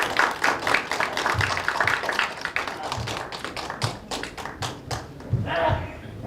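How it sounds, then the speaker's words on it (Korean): Audience at a startup pitch event clapping to welcome a presenter: sharp, scattered hand claps of varying loudness that thin out toward the end, with a faint voice briefly underneath. "박수 너무 치지 마세요."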